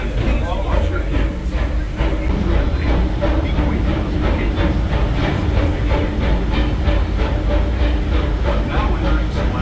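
Riding aboard the Disneyland Railroad, a steam train at the Disneyland theme park, with a loud, steady rumble and rhythmic clickety-clack of wheels on rails throughout, close and continuous with a hissing edge.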